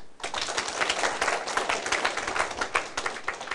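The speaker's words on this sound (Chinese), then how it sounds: "啊，你们拍手呀！" An audience applauds at a political lecture on Taiwan's civil government, a dense, steady patter of many hands clapping throughout, fairly loud and continuous with no speech over it.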